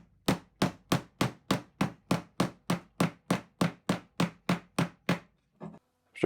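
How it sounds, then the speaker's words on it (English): A small hammer drives nails into a vintage steamer trunk with about sixteen sharp, evenly spaced taps close by, followed by a short pause and one last tap. "It's some sharp taps versus small hammering that seems to be doing this."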